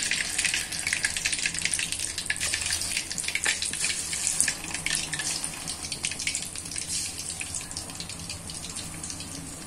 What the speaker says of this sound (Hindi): तो बाकी के पीसेस हैं उनको भी हम फ्राई कर लेते हैं